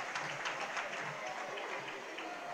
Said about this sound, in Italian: Applauso del Pala Barzacchi per il giocatore argentino